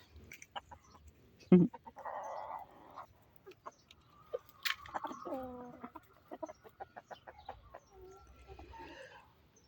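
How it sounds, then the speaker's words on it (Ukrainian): Chinese silkie chickens, a rooster and two hens just lifted off their nest, cluck and call in a scattered series of short, close sounds over a low outdoor background. "Тут у нас китайського шовкового півника, ось дві курочки теж витягнули."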